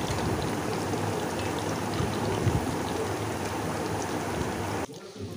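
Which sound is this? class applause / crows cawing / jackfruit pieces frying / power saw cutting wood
jackfruit pieces frying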